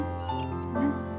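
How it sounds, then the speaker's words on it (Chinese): Small kitten giving a single drawn-out, close, high meow that holds steady for about a second. "有要领养的小猫咪。"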